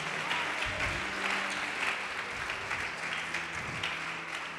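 A church congregation applauds steadily through the whole stretch, a dense, even wash of clapping from many hands with no pauses.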